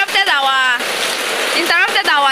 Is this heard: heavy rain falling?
yes